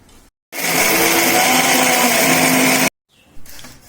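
A mixer grinder grinds cashews into powder in one loud, steady whir lasting over two seconds, starting and stopping abruptly, with quiet kitchen sounds around it.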